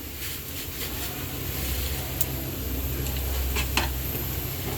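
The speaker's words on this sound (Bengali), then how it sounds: "পেঁয়াজ, গরম মশলা বাদামি হয়ে আসতেছে।" Steady sizzling of onion and spices frying in a pan, with occasional light scrapes of stirring, continuous and moderately loud with no voices.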